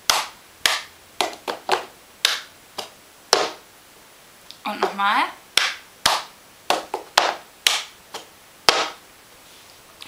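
Cup song rhythm of sharp hand claps and quick plastic cup taps on a table, in crisp repeating bursts with short pauses, close and clear; a voice speaks briefly in the middle.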